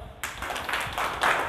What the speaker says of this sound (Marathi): या पूनमताईसाठी टाळ्या वाजवा.